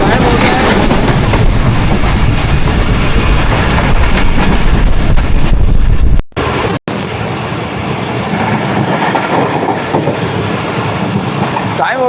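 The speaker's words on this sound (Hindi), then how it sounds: "ट्रेन हमारी नवाबशाह रेलवे स्टेशन को पास थ्रो करने जा रही है" The Karakoram Express passenger train in Pakistan runs near Nawabshah railway station, giving a loud, steady rumble with rattling wheels and coach noise that briefly cuts out, then resumes.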